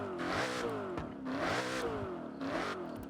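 A car's 4.7 litre V8 engine in the Forza Horizon video game, revving hard three times in quick succession, each burst rising and falling in pitch with a snarling, clattering tone.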